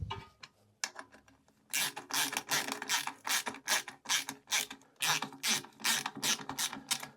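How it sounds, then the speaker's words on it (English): A hand ratchet cranks bolts tight on the terminals of a LiFePO4 battery, a rapid run of close, crisp clicking strokes coming in bursts with brief pauses between them. "bolt the negative to the negative terminal. So then we can tighten all those down."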